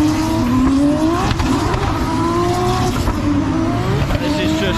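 Formula 1 race cars passing the start-finish straight at Spa-Francorchamps during the Belgian Grand Prix, a loud continuous engine roar with rising and falling pitch sweeps as cars go by, crowd ambience and some voices mixed in.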